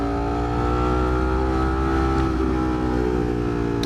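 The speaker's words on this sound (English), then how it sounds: "To get the sound of the exhaust resonating out of that tunnel" A car exhaust drones loud and steady, its rumble resonating out of a tunnel mouth and holding a constant note with a slight swell partway through.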